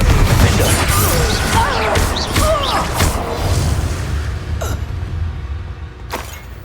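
A Confringo spell explosion in the Hogwarts Legacy video game: loud booming crashes and rumbling debris, with creaks and swishes of magic and a couple of later sharp bursts, dense and close.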